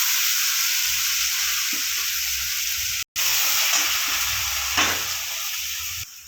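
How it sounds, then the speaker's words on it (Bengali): A masala of cashew paste and yogurt sizzles and hisses steadily as it is stir-fried in a kadai for doi katla fish curry, with faint scraping of the spoon now and then. "মশলাটা কষানোর সময় দেখে নিতে হবে যাতে কড়াইতে লেগে না যায়।"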